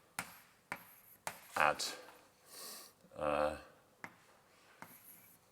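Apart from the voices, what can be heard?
lecturer writing on board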